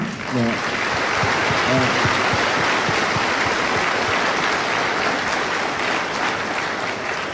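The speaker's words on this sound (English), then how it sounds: "I think Dr. Mahathir deserves a round of applause for his energy." Steady, dense applause from an audience at an open dialogue with Malaysia's prime minister at RUPP, filling the whole stretch, with a brief voice at the start.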